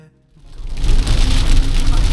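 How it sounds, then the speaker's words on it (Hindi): Heavy rain and strong wind batter a car driving at night near Limkheda. After a brief quiet start, a dense, steady roar swells up and holds loud to the end. "जब से डिनर करके चले हैं क्या तेज़ बारिश मिली है, खूब तेज़ हवाएं चल रही हैं"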